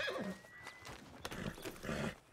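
A horse in the Wild West game Red Dead Redemption 2 lets out a short, close whinny and snort, with a rising neigh at the start and another burst near the end.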